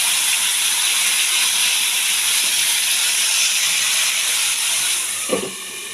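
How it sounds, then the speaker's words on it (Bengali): Tomato paste hits hot oil with whole garam masala for paneer masala, producing a loud, steady, close hiss that holds evenly and fades slightly near the end with one brief knock. "আমি টমেটোর পেস্টটা ঢেলে দিচ্ছি।"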